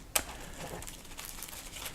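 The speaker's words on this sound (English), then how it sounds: "shuffle them into this deck" Antidote board game cards are shuffled nearby, with one sharp snap at the start followed by soft, quiet riffling and rustling.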